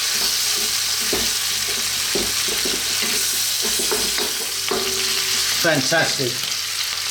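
Tuna frying with vegetables in a pan gives a steady sizzle broken by repeated stirring scrapes and knocks; a voice briefly speaks near the end.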